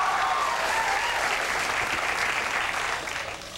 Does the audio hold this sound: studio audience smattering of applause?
yes